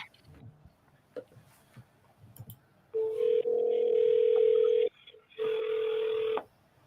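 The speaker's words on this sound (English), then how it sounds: "Once you click the start button on your screen, your dial session will begin. Are we both dialing now?" Telephone dialing during live cold calls, with a few faint clicks first, then a loud, steady dial tone that cuts off briefly and returns, alone without speech.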